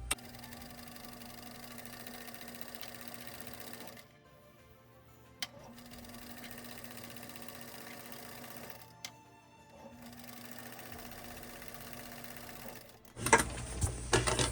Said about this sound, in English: I'm gonna go and top stitch on this side.